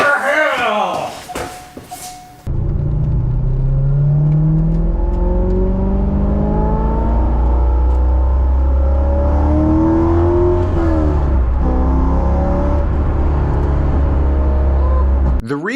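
A 2001 Chevrolet Corvette C5 Z06 storms up a hill, its engine note rising through the gears in loud, sustained climbing sweeps after a brief opening sound, staying strong and close throughout.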